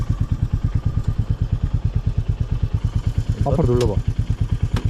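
Royal Enfield Meteor 350 motorcycle idling close by, a steady rapid thumping single-cylinder pulse, with a brief voice speaking over it midway.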